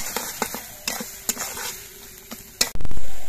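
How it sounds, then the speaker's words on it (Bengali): Spice masala with tomato and salt being sautéed in a pan, heard as a run of sharp scraping stirs over a steady low sizzle, ending in a louder burst of hissing frying. "মশলাগুলো কষানোর সময় আমি পরিমাণ মতো নুন দিচ্ছি"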